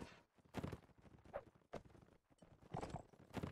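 Cavalry horses' hooves clip-clop in a Holdfast line battle, arriving in several loud, irregular bursts of thudding steps with short pauses between them, close by and with no one talking.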